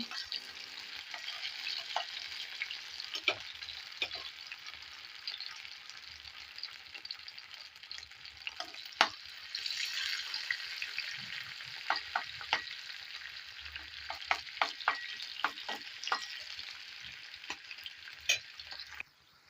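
Potatoes spread flat in a pan fry with a steady, fairly quiet sizzle, broken by occasional crackles and light stirring taps.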